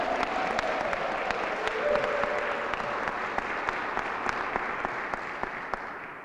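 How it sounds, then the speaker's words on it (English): A crowd applauding steadily, dense clapping that holds for several seconds, with a few sharper individual claps standing out near the end. "don't they deserve a round of applause?"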